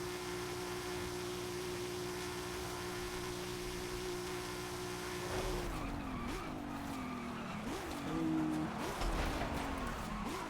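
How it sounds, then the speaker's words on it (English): Tires on a tuned Volvo squeal and skid in Forza Horizon 5: a steady engine drone runs alone for several seconds, then gives way to loud, wavering tire screeches and revving bursts. "Dang, this thing smokes out the tires really nice, actually."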